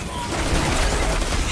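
Continuous rattling gunfire in the shooter game Destiny 2 Beyond Light, a dense, loud barrage of overlapping shots that never lets up.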